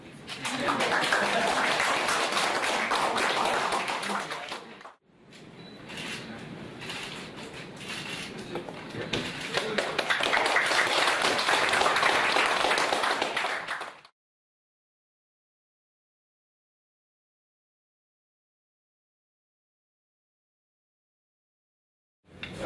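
An audience at the launch ceremony for a VAT monitoring system in Fiji bursts into applause twice, a dense wash of clapping in two long stretches with a brief break between, then silence.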